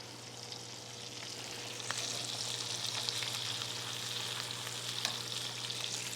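Slices of deer liver searing in a hot pan, a steady close sizzle and crackle with occasional sharper pops and a low hum beneath, no talking.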